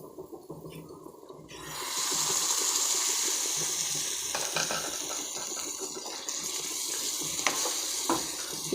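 Ground tomato and coconut paste poured into a simmering egg kofta curry with spices, a continuous close wet sizzle and bubbling with faint stirring scrapes.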